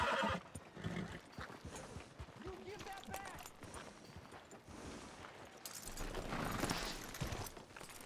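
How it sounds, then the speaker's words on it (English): In Red Dead Redemption 2, a horse whinnies amid clopping hooves, with gunfire and a busy mix of game sounds and voices around it. "Can't you control that damn horse?"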